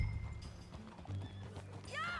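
Horse hooves clip-clopping in the Red Dead Redemption 2 video game, soft and fairly quiet, with low rumble and a brief whinny-like sound near the end.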